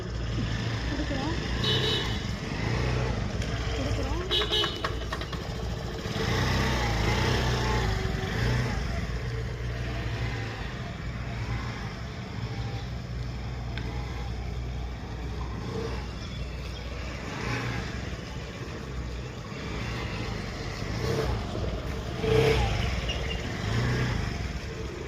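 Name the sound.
motorcycle engine starting, throttling down and stalling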